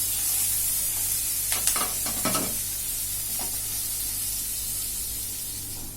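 Vegetables for kadai paneer sizzle in a pan, partly fried on low gas, with a steady hiss broken by a few bursts of stirring and spattering in the middle before settling back to a soft, even fry.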